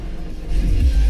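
Genesis G80 on a track with new wheels and tires, traction control off and overheated tires, a loud low engine and road rumble that swells in the second half.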